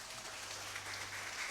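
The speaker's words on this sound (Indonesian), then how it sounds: "Tepuk tangan dulu semua." A church congregation applauds during a year-end worship service with holy communion in the Kapipe parish of the Bone-Bone classis. The clapping forms a steady, dense wash with a low hum beneath it, and no voices are heard.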